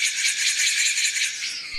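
A spinning toy cicada built from a resonance tube, taut string and bamboo stick gives a steady, loud buzzing chirp whose pitch swells and dips in a regular cycle as it whirls around.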